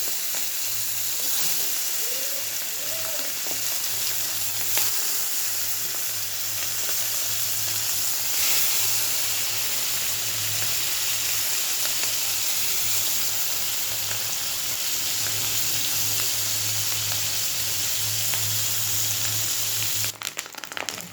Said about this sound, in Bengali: এবারে মাছের ডিম আছে, ডিমটা একটু ভেজে নেবো